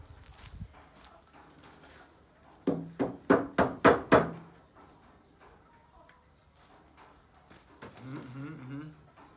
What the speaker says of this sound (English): what is the bird I was telling you about.